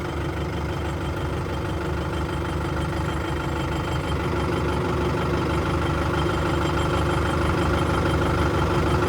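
A heavy tractor engine idles and rumbles steadily throughout, a low continuous drone up close with no speech.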